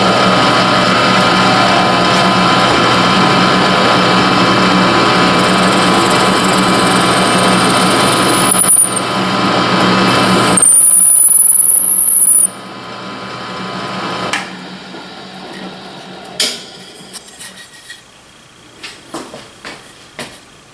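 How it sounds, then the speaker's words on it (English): A drill press runs with a loud, steady motorized whine and a rising high squeal as the bit cuts, then the motor stops and a few clicks and knocks follow. "I'm gonna throw up my drill press and see how she works."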